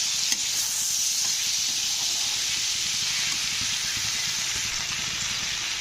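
Vegetables sauté with ginger paste in a pan for veg cutlets, giving a steady, close sizzling hiss with faint stirring underneath, continuous and even from start to finish.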